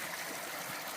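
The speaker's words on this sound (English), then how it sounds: "Monument Creek, which you can see here flowing" Monument Creek in the Grand Canyon flows with a steady, dense rushing and trickling wash, close and even throughout, with no voices.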